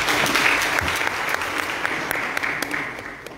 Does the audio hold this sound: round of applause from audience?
yes